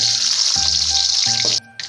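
Small onions and mustard seeds fry in hot oil with a loud, steady, close sizzle. Soft knocks come as ingredients are added, and the sizzle drops out briefly near the end.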